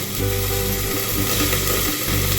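Pointed gourd, pumpkin and cauliflower frying in a covered pan, giving a steady close sizzle with soft crackling spatters and a few brief dips.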